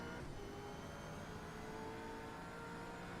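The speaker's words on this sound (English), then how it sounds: "They sound so incredibly awesome, these cars." A W12 Sprint Series race car engine roars in a constant, dense drone, steady and loud throughout without any talk.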